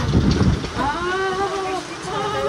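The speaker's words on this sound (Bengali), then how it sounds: "ওই যে বৃষ্টি ছাট আসছে, বৃষ্টি দেখা" Rain gusting in through an open rooftop door, a broad, steady wash of wind-driven rain, with a person's voice speaking over it partway through.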